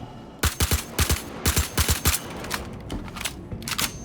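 Gunfire in the Star Citizen video game: quick bursts of sharp shots in clusters of two and three, loud and close, with short gaps between volleys and fainter shots trailing off at the end.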